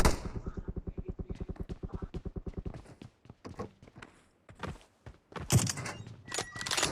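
Gunfire in the PUBG Mobile video game: a rapid, evenly spaced automatic burst of about two dozen shots, followed by scattered single cracks and thuds at irregular intervals, moderately close and without talk.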